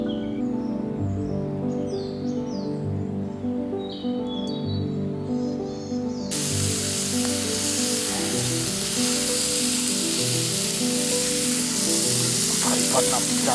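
Fish grills and sizzles on a charcoal fire held well back from the flames, a steady loud crackling hiss throughout, outdoors in a forest with birds chirping faintly at the start.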